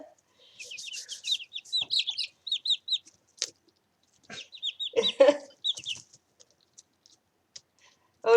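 Chickens cluck and chirp repeatedly after a sand bath in their coop, short bursts of close, moderately loud calls with brief pauses between.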